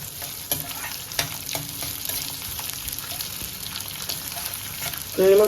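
Chopped onion sautés in a hot pan for a Kolhapuri-style white crab curry, with a continuous sizzle and a few distinct scraping stirs of a spoon, then a brief louder tonal sound at the very end.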